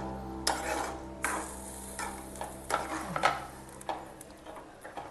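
Palak paneer stirred in a pan, a spoon scraping and knocking in bursts against a steady sizzle, with no talking.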